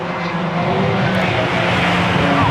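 BMW and Mini race cars lapping Croft circuit in a 750 Motor Club race, a continuous engine drone at steady loudness with no clear pass-by peak.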